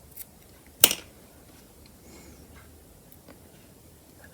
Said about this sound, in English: I can now trim off the ends